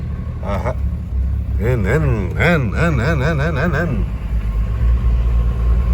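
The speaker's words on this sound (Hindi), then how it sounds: "ट्रक की जो साउंड है ना, वो आती है हीनो ट्रक की, हमारे 12 HP मोटर की इंजन की।" A low, steady Hino truck engine rumbles throughout while driving, as a person talks over it in a lively, sing-song voice.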